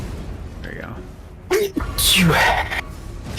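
A single loud sneeze bursts out close to the microphone during Elden Ring gameplay, standing out sharply among game sounds and a brief spoken remark.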